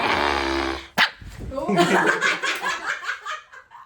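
A pet dog in a home growls and barks close by, snarling among people who talk and laugh over it.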